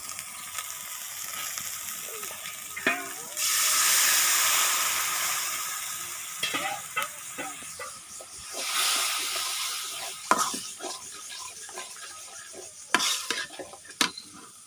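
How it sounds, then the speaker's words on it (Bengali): Chili, turmeric, ginger paste and salt sautéing in a pan for a home-cooked Bengali dish, a steady close sizzle with scraping stir strokes and louder hissing bursts, no talking. "এখানে হলো আমি ভালোভাবে একটু কষিয়ে নেব।"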